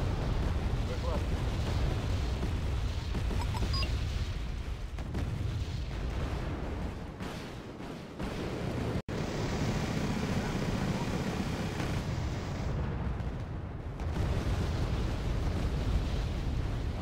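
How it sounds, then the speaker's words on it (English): Napalm strike explosions rumble in the Wargame Airland Battle video game, a heavy continuous roar of blasts and fire with short breaks, loud and dense, with a voice talking over it. "Okay, napalm strike."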